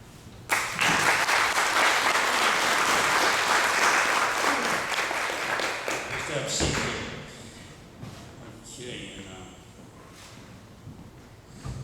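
Audience applause after a campaign speech for Senate District 21, loud and sustained for about six seconds, then thinning into scattered claps and murmuring voices.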